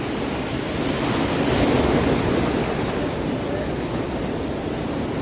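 Surf rolling onto Golden Beach in Puri, a continuous broad wash of breaking waves with no voices.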